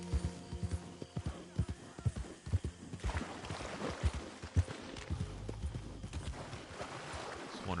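In Red Dead Redemption 2, a horse's hooves clip-clop in an irregular walking rhythm near Saint Denis. The steps are close but fairly quiet, with faint background ambience.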